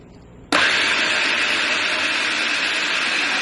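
A blender switches on abruptly and runs at a loud, steady whir, churning vegan pumpkin cheesecake batter toward smoothness, with the motor noise close and unbroken after the start.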